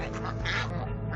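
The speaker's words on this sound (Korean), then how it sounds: "참을성이 부족한 오리 한 마리가 다가가지만 곧바로 쫓겨나고 만다" Ducks quacking as they compete with geese over a pumpkin, a dense, continuous burst of nasal calls close by, with no talk over them.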